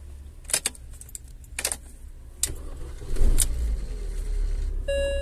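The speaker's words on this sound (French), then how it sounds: "je vais mettre le contact. Je vais faire démarrer." Keys jangle a few times, then a BMW Mini R50 engine running on bioethanol cranks and catches, settling into a steady idle, followed by a short electronic chime.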